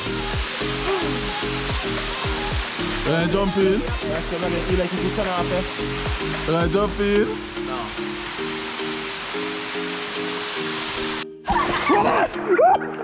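The tallest waterfall on St Vincent roars as a constant, loud wash of falling water close by, with people chatting and calling out over the rushing noise.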